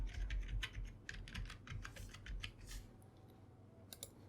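Rapid clicking keystrokes on a computer keyboard as an email address and password are entered, close but quiet, in uneven bursts that thin out toward the end, with no talking.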